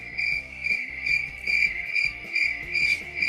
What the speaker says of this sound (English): I'm going to give you the crickets.